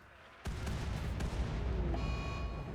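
Nuclear shells detonate in RimWorld, a sudden loud boom followed by a sustained rumbling blast that rolls on for about two seconds, with a second jolt and a faint tonal beep near the end.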